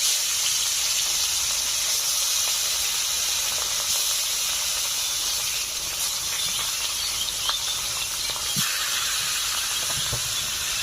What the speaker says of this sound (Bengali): এই মাছ ভাজার তেলে আমি বাদ বাকি মাছগুলোকেও ভেজে নেব।